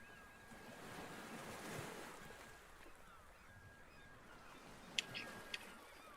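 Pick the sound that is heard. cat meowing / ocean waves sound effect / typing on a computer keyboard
ocean waves sound effect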